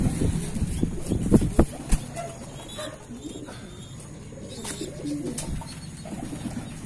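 Racing pigeons coo in a loft, soft repeated throaty calls up close, with a few louder knocks and bumps early on and faint background voices.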